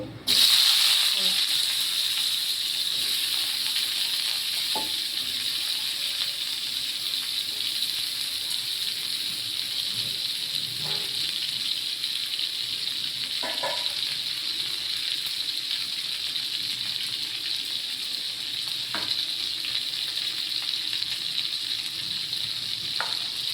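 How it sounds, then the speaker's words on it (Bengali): Stalks of a leafy vegetable hit a hot wok tempered with oil and nigella seeds, giving a loud, steady sizzle that runs unbroken throughout, with a few faint stirring clinks. "এবার আমি ডাঁটাটা দিয়ে দেবো। কড়াইটা গরম হয়ে গেছে।"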